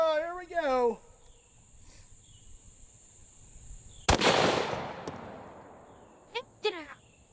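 .338 Lapua rifle firing a Hornady 285 grain AMAX round: a single sharp, loud report midway, trailing off into a decaying wash of noise, with brief speech before and after.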